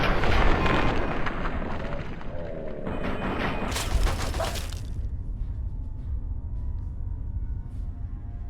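A rifle fires in the video game Fallout 3, giving a loud booming blast that decays slowly. A second sharp burst follows a few seconds later, then fades into quiet rumbling.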